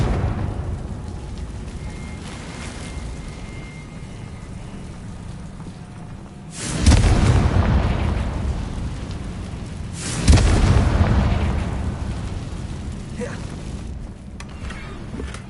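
Two loud Confringo fire-spell blasts from the video game Hogwarts Legacy, each a sudden broadband burst that lingers for a few seconds, spaced about three seconds apart over a steady game background.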